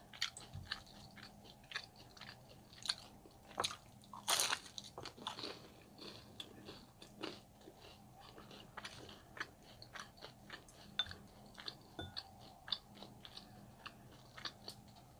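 Close, quiet crunchy bites and steady chewing of taquitos with rice and beans, with sharp crackling bites scattered over a soft chewing bed and one louder crunch partway through.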